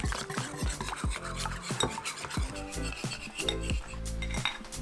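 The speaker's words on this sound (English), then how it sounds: "you just want to get a whisk and whisk it all together" A whisk scrapes and clinks around a bowl of dry ingredients for chickpea fries, giving quick, rhythmic metallic rasps and taps, close and alone.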